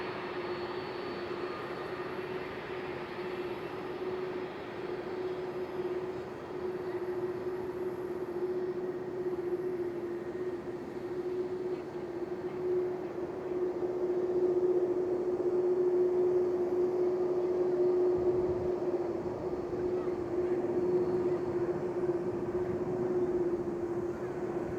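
A Turkish Airlines Airbus A330 taking off from Amsterdam Schiphol, heard as a steady distant jet-engine roar with a sustained tonal hum that slowly swells louder toward the middle and holds, with no talking.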